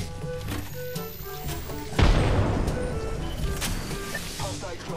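A frag grenade explodes in Apex Legends with a sudden, loud booming blast whose rumbling tail fades over the next few seconds, over ongoing game sounds and background voices.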